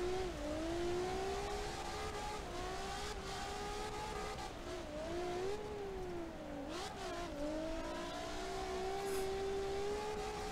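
A drift car engine in the CarX Drift Racing Online game, an Atlas GT, holds a loud continuous high rev that rises and dips with shifts and throttle changes across the whole stretch, with no voices.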